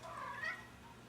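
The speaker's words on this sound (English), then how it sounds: "my cat Smokey, he was probably right outside the door" A pet cat named Smokey gives a single soft, drawn-out meow from just outside a door, faint and brief against low room noise.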